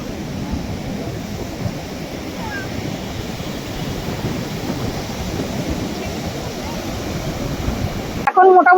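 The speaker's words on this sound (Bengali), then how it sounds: "এত ঢেউ হচ্ছে একদম, মানে সমুদ্রের পাড়ে যে বিচ, সেই বিচে জল উঠে চলে আসছে।" Rough sea surf breaking on the beach at Puri under stormy weather, a steady, loud wash of waves rolling in with wind buffeting the microphone and a brief louder burst at the end.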